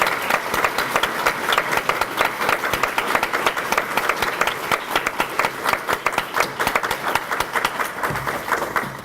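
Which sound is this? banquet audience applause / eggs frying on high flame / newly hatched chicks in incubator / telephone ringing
banquet audience applause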